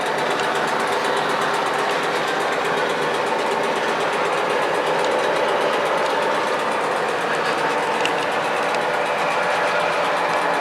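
A Susquehanna model train engine runs on an Erie Railroad model layout while switching cars, giving a steady whirring motor hum with faint rattling that holds at an even level throughout.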